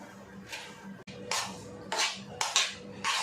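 Snack stuffing being mixed in a bowl, with a run of short scraping, clinking strokes of a spoon against the dish, fairly close and quiet, with no talking.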